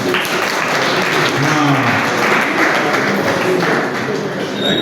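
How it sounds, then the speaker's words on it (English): Steady clapping from a seated audience in a university hall as latecomers arrive, a continuous loud wash of hands with voices talking underneath. "Let's clap for them as they are coming."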